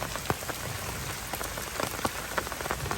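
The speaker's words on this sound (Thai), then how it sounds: "ฝนยังไม่หยุดเลย" Rain falls steadily on a riverside fishing trip along the Pa Sak River, a dense hiss of drops with scattered sharper patters close by, as if striking an umbrella or nearby surfaces, with no voices.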